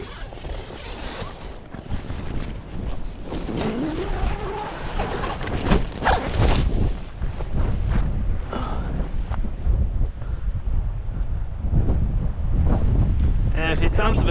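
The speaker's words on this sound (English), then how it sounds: "Yeah, she sounds a bit windy." Strong gusty wind buffets and roars against tent fabric nearby, with rustling and flapping rising and falling and brief handling noises mixed in.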